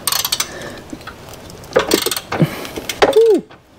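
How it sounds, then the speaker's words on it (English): An 18 mm ratchet works loose the bolts on a Mopar steel bumper fitted to a Jeep Rubicon, giving close bursts of rapid clicking pawl action with metallic squeaks and brief pauses between turns. "18 mil ratchet to take those off"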